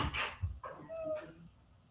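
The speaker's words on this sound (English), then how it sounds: "Dog, I know you are not whining at my door." A dog whines at a door, giving a few thin, high whimpers up close, with a brief human voice and some shuffling noise around them.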